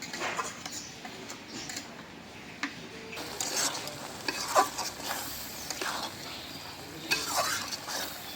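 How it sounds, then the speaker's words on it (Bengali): Coconut frying in a bubbling spice gravy for a prawn curry, a steady sizzle broken by repeated spoon scrapes and stirring taps against the pan, close and moderately loud throughout. "নারকেল ভুনা করে নিলাম"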